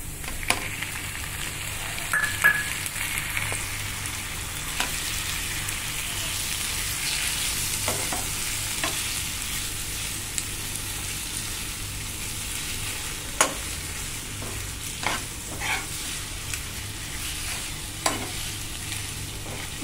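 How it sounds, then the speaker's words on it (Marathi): Prawns sizzling in a pan with browned onion for prawn masala, a steady frying hiss broken by scattered sharp clicks and scrapes of stirring, close and continuous with no talk. "दोन मिनिटं याला असंच परतवूया"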